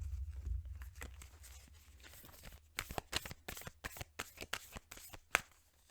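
Tarot cards shuffled by hand up close, a quick run of crisp riffling slaps and flicks that grows sharper and more rhythmic toward the end, with no talking.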